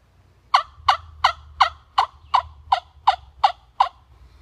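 Eleven sharp, evenly spaced yelps of a wing-bone turkey call, made from hollowed turkey wing bones glued together, mimicking a hen, close and clear over a faint low hum.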